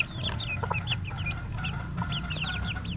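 Chicks in a coop keep up a stream of high, overlapping peeps and chirps over a low background hum, close and continuous.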